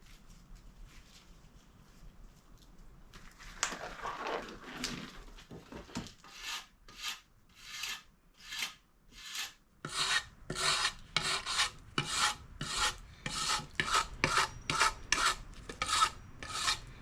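A wire brush scraping wood out of an axe, a near, rasping stroke repeated in a fast, steady rhythm of loud scrubbing bursts after a few quieter rubs.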